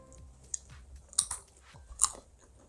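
Crisp, close crunching bites and chewing of a homemade collagen ball snack made with sunflower seeds, several sharp crunches standing out over quiet mouth sounds.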